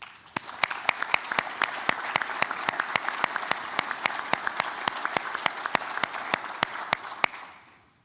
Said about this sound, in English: let's give one another a really big round of applause